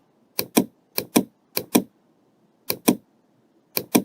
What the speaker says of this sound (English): we press the shift from the keyboard